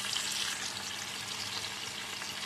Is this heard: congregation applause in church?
no